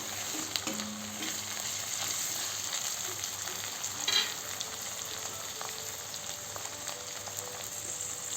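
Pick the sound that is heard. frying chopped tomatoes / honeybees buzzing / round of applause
frying chopped tomatoes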